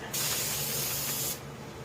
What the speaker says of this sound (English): Guess I should have tried out my spray nozzle.